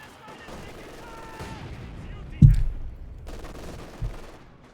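Machine gun fire in Company of Heroes 2, heard as a faint, distant battlefield rattle with one sharp loud crack midway and a softer thump near the end, under a low game rumble.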